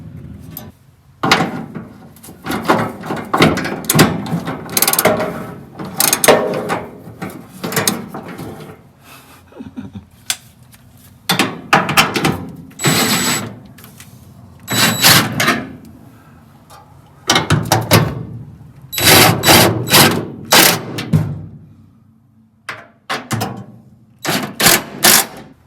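Bursts of metallic ratcheting on 13 mm bolts as a new fuel tank is strapped into a rusty VW Bus, coming in repeated rapid runs separated by short pauses, close and fairly loud with no talk.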